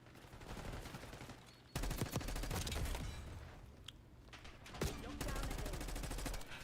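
Rapid automatic gunfire in a video game empties half a magazine in sustained loud bursts, with a pause in the middle and another burst that runs to the end. Voices are faint or absent.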